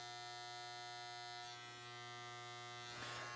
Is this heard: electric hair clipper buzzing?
yes